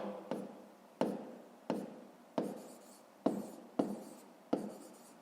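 A pen writes math on paper in a series of about eight short, evenly spaced strokes and taps, close and quiet.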